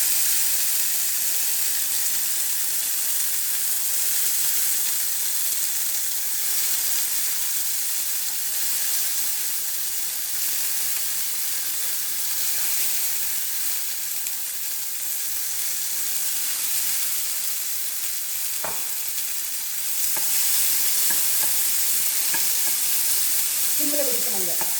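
Pirandai (adamant creeper) and ginger fry in a pan with a loud, continuous hissing sizzle, with a few faint stirring clicks toward the end.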